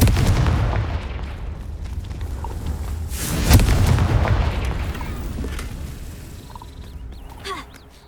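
A Confringo spell blast in the Hogwarts Legacy video game, with a sharp booming burst near the middle over a dense rumbling game soundscape, followed by a smaller pop toward the end.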